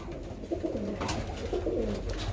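Birmingham Roller pigeons coo in soft, overlapping low calls that continue steadily throughout, with a constant background hum.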